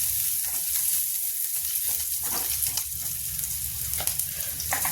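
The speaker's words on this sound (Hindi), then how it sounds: "मिर्चा और लहसुन। इसको हम हल्का सा भून देंगे।" Green chillies and garlic lightly frying in a pan, a continuous crackling sizzle with occasional scraping stirs close by.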